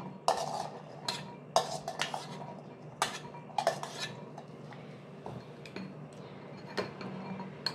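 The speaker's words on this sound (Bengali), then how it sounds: "এগুলো এবার মিশিয়ে নিচ্ছি।" Boiled chickpeas stirred with a spoon in a bowl, giving repeated close clinks and scrapes of metal on the dish in an irregular rhythm, fairly quiet with no talking.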